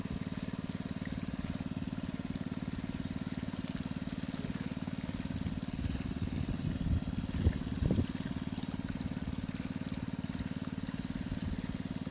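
A small water pump engine drones steadily at low pitch, running continuously without change in speed, with a brief faint knock partway through.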